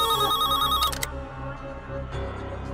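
A telephone rings with a repeating electronic tone, loud and close, then cuts off after about a second, leaving a quiet indoor background with faint music.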